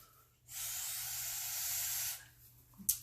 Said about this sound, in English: I'm going to give them a little blow with my straw